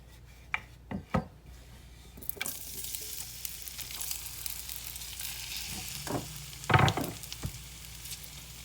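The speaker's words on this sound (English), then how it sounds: "So now we've got our skillet good and hot. We're going to go ahead and we're going to add our cut up potato." Cut-up potato pieces drop into a hot skillet with a few sharp knocks, then settle into a steady, moderate sizzle of frying, broken by occasional stirring scrapes and clatters.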